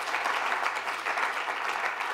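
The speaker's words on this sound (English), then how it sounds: "Clap for Mo" Steady applause from a crowd, a dense wash of clapping that holds evenly throughout.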